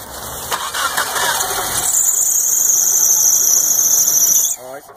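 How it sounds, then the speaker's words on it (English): Geo Tracker with a no-start fault on its throttle body injection cranks briefly, then fires and catches with a sustained high-pitched belt squeal over the running engine, close and loud, before cutting off. "Again, try to start it."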